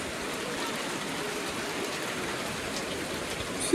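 Heavy rain pours steadily over a residential neighborhood compound, a dense continuous hiss close by with no breaks across the whole stretch.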